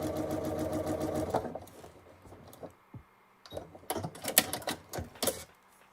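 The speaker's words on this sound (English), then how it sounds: "now I'm stitching the little blue square to the green strip, and we're almost done" A sewing machine stitches a small blue quilt square to a green strip, running steadily at first, then in short rattling bursts with pauses; no one speaks.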